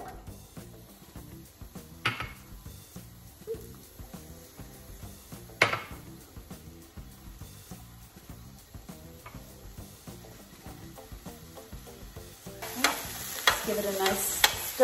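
Vegetables cooking in canola or olive oil in a pan; a quiet sizzle with occasional sharp clinks and scrapes, rising to a louder burst of frying near the end.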